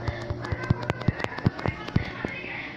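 Snake firecracker bursting in a video game: a quick string of sharp popping cracks, about a dozen in under three seconds, irregularly spaced over a steady background hum.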